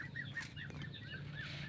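Chickens on a farm cluck in a series of short, faint calls over a steady low background hum, with no talk.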